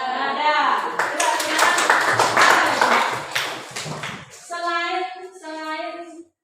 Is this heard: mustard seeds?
no